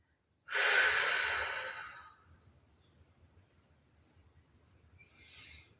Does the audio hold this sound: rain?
no